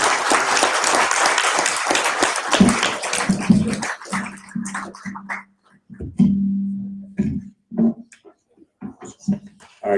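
Loud, dense applause from an audience after a presentation, dying down after a few seconds and leaving scattered claps and some voices.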